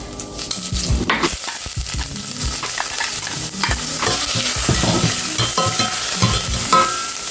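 Dried red chillies fry in hot oil in a pan while being stirred. The sizzling is steady and loud, broken by frequent utensil scrapes and clinks, and no one speaks.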